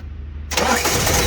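A Ford Courier diesel engine catches after cranking and bursts into a loud, rough running clatter, close by, following a brief quiet moment.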